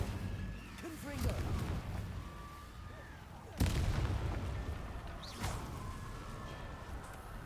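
Confringo blasting spell going off in a Harry Potter style video game, sharp booming blasts near 3.6 and 5.4 seconds over a steady rumbling game soundscape, with a voice speaking spell names.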